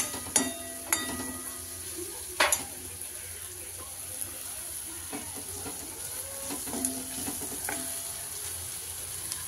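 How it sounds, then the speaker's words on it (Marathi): Dried sukat fish tempering sautéing in hot oil in a pan, a low continuous sizzle broken by a few sharp spoon clacks and scrapes as it is stirred. "तो पण व्यवस्थित असा परतून घ्यायचा आहे। आणि मस्त असं तेल सुद्धा सुटलेलं आहे आणि चमचमीत फोडणी झालेली आहे।"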